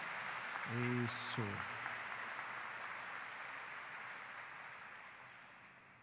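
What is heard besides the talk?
congregation applause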